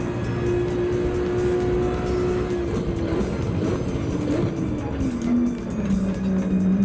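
Porsche Boxster engine in Gran Turismo 7 at Deep Forest Raceway, a steady droning tone that shifts pitch as the car drives and changes speed, continuous and fairly loud with faint talk underneath.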